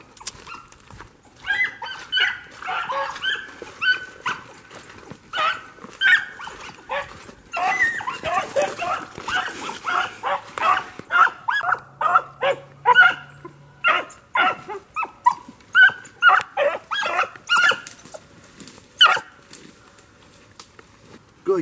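Two hunting dogs bark and bay in rapid, repeated bursts while chasing rabbits, loud and close, the barking growing denser and more rhythmic toward the end.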